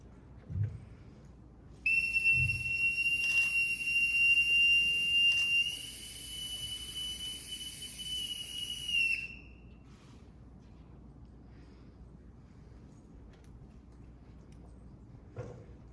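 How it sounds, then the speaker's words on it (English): A shrill boatswain's pipe pipes the side at a US Navy retirement ceremony, holding a high steady note for several seconds, then sliding off and stopping, leaving quiet background hiss. "Bosun, stand by to pipe the side."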